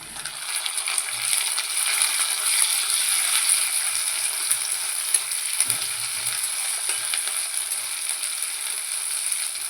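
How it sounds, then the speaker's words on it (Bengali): Tomato and ginger paste fries with browned onions in a pan, a steady bright crackling sizzle that continues evenly throughout, with a brief soft knock midway and no talking. "এবার টমেটো আর আদা বাটাটা দিয়ে কষবো"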